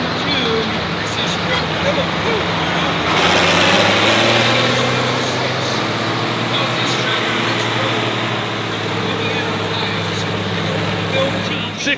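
A light pro stock pulling tractor engine idles and then revs on a dragway track at a tractor-pulling event, a loud, sustained drone with a rising note partway through, while an announcer speaks over the public address.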